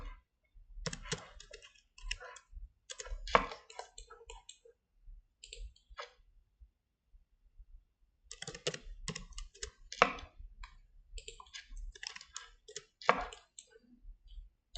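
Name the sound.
mouse clicking while drawing pattern lines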